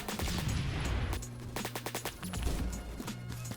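Rapid gunfire in a video game, a run of sharp, closely spaced shots in short bursts with brief pauses between them, loud and close against a busy game backdrop.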